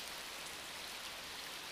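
Steady rain falls in an animated cartoon, an even, continuous hiss of drops on surfaces with no other sounds.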